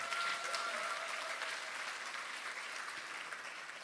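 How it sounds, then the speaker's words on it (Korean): Steady applause from a large audience at the Democratic Party of Korea's 70th anniversary ceremony, dense clapping holding through the whole stretch and easing slightly toward the end. "세 분께 다시 한번 큰 박수 부탁드립니다"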